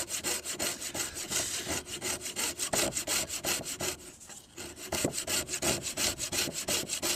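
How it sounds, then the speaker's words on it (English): A sharp coping saw cuts a notch in deck wood with fast, rhythmic back-and-forth strokes, close and clear, with a short pause midway before the rasping strokes resume. "Using my coping saw once again. It's very sharp. And it doesn't take long to cut out a notch."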